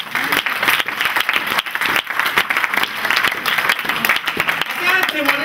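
A church congregation at a French-speaking service applauds and cheers. The clapping is dense and continuous, with voices mixed in throughout and speech rising near the end.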